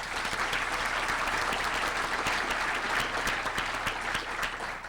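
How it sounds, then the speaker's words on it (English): Sustained audience applause at a regional government address, dense steady clapping from a large crowd throughout, without talk. "I would also like to have your applause"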